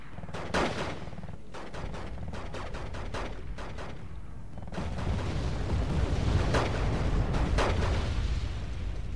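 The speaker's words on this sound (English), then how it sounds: "with the sort of like normal bomber units like these, they just drop the bomb straight on the target" Bombs from bomber units strike targets in the real-time strategy game Wargame Red Dragon. Dense, rapid impact bursts crackle over a steady rumble that swells louder and heavier midway through.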